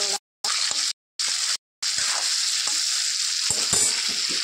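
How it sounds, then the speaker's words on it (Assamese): Broiler chicken meat fries with spices in a hot pan, giving a loud steady sizzle with crackles and pops that cuts out briefly a few times before continuing, no voices. "মাংসখিনি বহাই দিলোঁ।"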